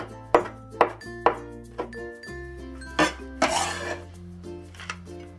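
Kitchen knife mincing cilantro on a cutting board: a run of distinct chopping knocks, each with a brief metallic ring, spaced about half a second apart, with a denser cluster of rapid strokes near the end.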